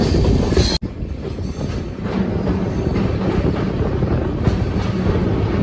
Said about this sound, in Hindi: देखो कितनी लंबी ट्रेन है, 21 डब्बों की